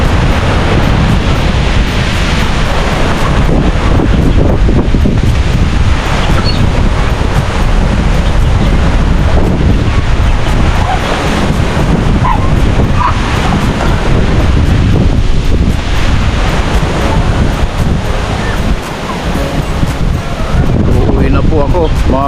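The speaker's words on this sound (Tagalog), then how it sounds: "medyo lumalakas na po ang hangin" Strong, gusty Typhoon Pepito wind roars and buffets the microphone continuously and loudly, with a constant heavy rushing that never lets up.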